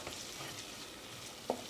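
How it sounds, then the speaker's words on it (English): Flour and oil roux cooking in a pan, a steady soft sizzle and frying hiss throughout with one brief spoon scrape near the end, no voices. "we're gonna let that flour cook out for another minute or 2"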